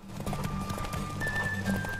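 Horse hooves clip-clopping at a gallop during a horse race in The Witcher 3, a steady fast rhythm with a brief whinny, close and moderately loud over game music, with no one talking.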